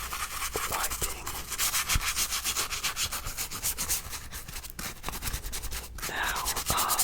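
Fabric shoes are scrubbed and wiped by hand up close: continuous rhythmic rubbing and brushing strokes with soft scratchy texture and occasional taps, no talking.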